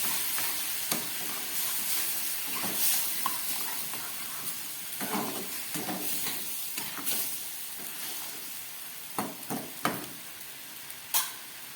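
Tomato paste thinned with water poured into a hot pan for a pumpkin and fish-head ghonto, giving a steady soft sizzle with scattered sharp clicks and scrapes, close and fairly quiet, with no talking.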